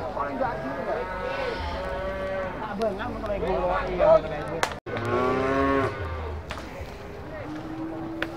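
Beef cattle moo repeatedly, long low bellowing calls overlapping one another, with someone talking now and then amid the herd noise.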